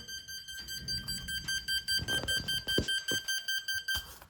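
Steady high-pitched tones from an electronic speed controller pulse in a regular rhythm, roughly eight evenly spaced beeps, close and clear with some handling noise.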